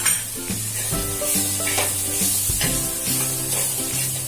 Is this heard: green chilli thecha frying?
yes